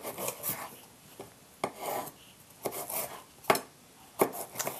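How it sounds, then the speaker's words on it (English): Knife cutting bell peppers into strips on a board, with a series of close, dry rasping strokes and sharp taps at an uneven pace, no talk. "The peppers will also slice into strips as well."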